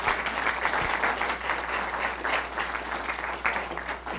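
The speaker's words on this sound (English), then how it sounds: "one more round of applause, please." Sustained audience applause fills a lecture hall after a science lecture on polar exploration, a dense, steady wash of many hands clapping from start to finish.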